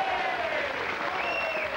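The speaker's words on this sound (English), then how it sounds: "Round of applause for Frankie Howard being 70 today" A studio audience on a television entertainment programme claps in a sustained, even burst of applause that carries through the full stretch without talk.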